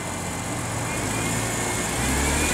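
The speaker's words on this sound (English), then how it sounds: "give it a little gas, and then ease the clutch out" A 2007 BMW Z4 Roadster engine hums steadily at low revs as the clutch is eased out, a continuous close drone with slight rise near the end, no voices.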